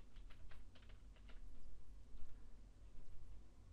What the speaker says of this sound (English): Just going to type in helpful hermit.